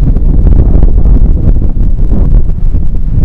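Strong southwest monsoon (habagat) wind during Typhoon Betty in Baler, Aurora, Philippines, roars steadily across the microphone, a continuous low rumbling buffet with gusty swells and no voices.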